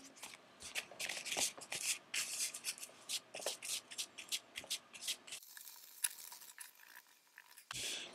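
Scissors cutting pieces of cactus-based plant leather, a close series of soft snipping and rustling strokes in an irregular rhythm, fairly quiet and with no talking.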